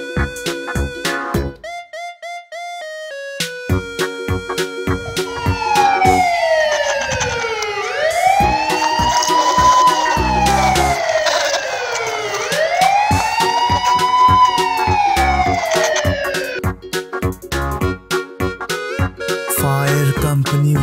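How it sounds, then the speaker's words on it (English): A toy police car sounds its siren, a loud rising and falling electronic wail that sweeps repeatedly over a busy, beeping toy background, with no talking. "Police car."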